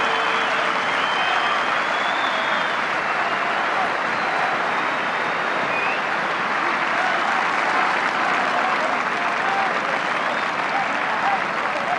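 Sustained, steady applause from rugby league fans at a Yorkshire Cup final, a broad even wash of clapping from the crowd lasting throughout, with faint commentary beneath.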